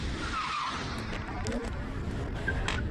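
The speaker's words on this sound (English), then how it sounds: "BMW coming through." A BMW race car sweeps past on a mountain hill-climb track in Cape Town, engine note and tyre noise rising and falling as it goes by, loud and close with a brief squeal of rubber.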